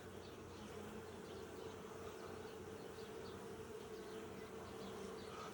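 Honey bees hum at an open beehive among frames of honey, a steady low buzzing drone with occasional faint flybys, quiet and continuous with nobody speaking.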